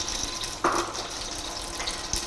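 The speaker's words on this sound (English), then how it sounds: "First, some oil, just to cover the base of the pot." Oil pours into a cooking pot to cover its base, a soft steady trickle with a brief splashy rise near the start, heard alone at low volume.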